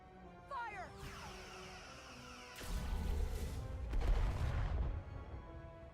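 Spaceship weapons fire in the sci-fi game Titan Station: rising electronic chirps and sweeping tones give way to a sudden heavy crash, followed by loud rumbling blasts and impacts that swell and then fade.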